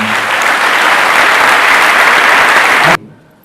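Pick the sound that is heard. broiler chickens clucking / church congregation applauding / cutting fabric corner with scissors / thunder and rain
church congregation applauding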